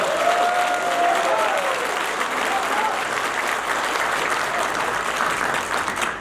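Party members gathered in a welfare center auditorium in Ansan applaud an arriving party leadership candidate, a full, even roar of crowd clapping that holds steady throughout, with a voice briefly heard over it early on.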